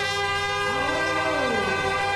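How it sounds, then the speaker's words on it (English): Start hooters at the Great Birmingham 10k race, a loud sustained horn blast with steady layered tones that sweep slightly in pitch, continuous and close. "So the hooters go and the crowds cheer."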